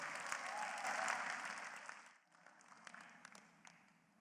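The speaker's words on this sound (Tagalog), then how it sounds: "Mahinang pumalakpak yung mga tao rito." A room full of people claps softly, a gentle wash of applause that dips midway and continues as lighter scattered clapping.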